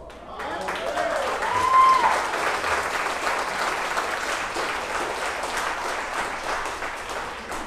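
Audience applause at a political talk on Texas independence in Lindale, a steady burst of clapping from a crowd that swells, peaks and slowly eases while a voice speaks underneath.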